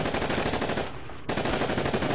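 Bursts of automatic machine gun fire in the World War II shooter Call of Duty: Big Red One, loud and continuous, breaking off briefly for a moment before resuming.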